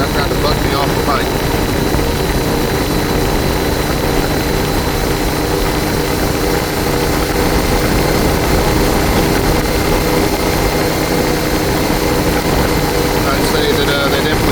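CFMOTO IBEX 450 motorcycle engine lugging in sixth gear after an ECU tune for jerky throttle and surging, a steady, loud, continuous drone with wind noise throughout.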